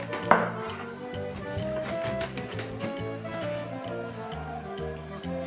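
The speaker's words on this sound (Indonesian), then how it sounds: "Oke, nanasnya kita potong." A knife chops through pineapple in a home kitchen, steady rhythmic thuds on a cutting board repeating at a quick, even pace, close and moderately loud, with no speech.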